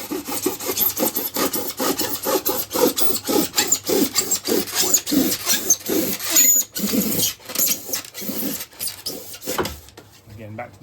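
A rasp works material while shaping a model railway hillside, giving steady back-and-forth scraping strokes in a close, rhythmic series that fade out toward the end.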